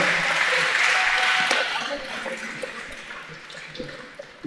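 Audience applause at a Liverpool seminar, a dense patter of many hands clapping, loud at first, then thinning and fading over several seconds.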